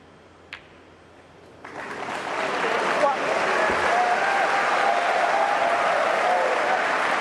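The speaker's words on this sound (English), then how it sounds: "Rapturous applause once again" Snooker crowd at a World Grand Prix final breaking into rapturous applause after a quiet moment, a sustained loud wash of clapping that swells and holds steady to the end.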